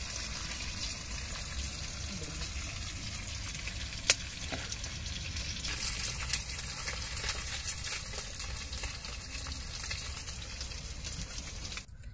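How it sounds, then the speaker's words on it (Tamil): Fish frying in hot oil for fish biryani, a steady crackling sizzle that runs unbroken throughout, with occasional sharp pops and clinks, close and moderately loud, no talking. "இப்ப மீனை பொரிச்சு முடிச்சாச்சு"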